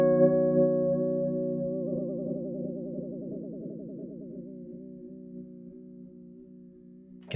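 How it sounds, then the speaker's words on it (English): A Keyscape virtual keyboard chord rings with a wavering vibrato effect, the sustained tones pulsing and warbling as they slowly fade, ending with a brief click. "For example, we have vibrato here."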